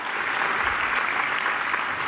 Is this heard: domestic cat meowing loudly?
no